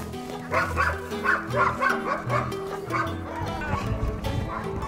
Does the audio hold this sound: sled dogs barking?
yes